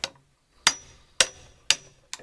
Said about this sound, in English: Tap it with a hammer, and out they come